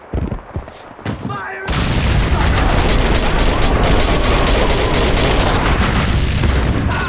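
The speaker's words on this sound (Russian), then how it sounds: "Сами что-то уже начали взрывать." Continuous loud barrage of gunfire and booming explosions in Max Payne 2, dense and chaotic, starting after a brief quieter moment with faint speech.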